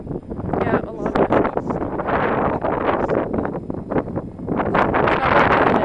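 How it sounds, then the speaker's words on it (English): Heavy wind buffets the microphone outdoors in a gusty, roaring rush that swells and dips throughout, loud and close, while someone talks over it during a small drone or RC flight. "Struggling with this wind."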